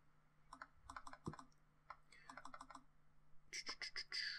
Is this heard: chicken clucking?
no